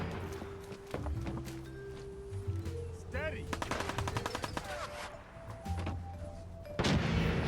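Gunfire in Fallout 4: bursts of rapid shots and scattered single cracks in a busy firefight, mixed with game music and effects across the scene.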